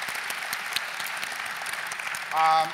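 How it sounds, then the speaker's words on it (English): Audience at an education initiative event gives a round of applause for a speaker, steady dense clapping throughout with a brief tonal sound near the end. "Give Peggy a round of applause."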